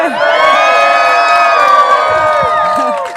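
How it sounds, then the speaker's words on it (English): A crowd of children and adults cheers and whoops loudly at close range, a sustained burst of overlapping high shouting that fades slightly at the end. "Everybody cheer in the background"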